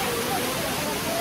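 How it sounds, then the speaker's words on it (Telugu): A waterfall partway along a rainy hiking trail, a dense steady roar of falling water, close and loud throughout. "అది మధ్యలో ఇంకో వాటర్ ఫాల్ ఉంది."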